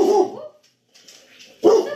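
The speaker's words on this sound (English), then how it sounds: "There's another dog." A dog barks in two short bursts close by, with a brief quiet gap between the loud yips.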